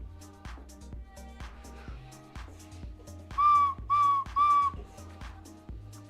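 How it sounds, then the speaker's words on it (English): Three sustained whistle blasts ring out clearly over rhythmic background music with a steady beat. "Sounds like an old whistle, old man whistle."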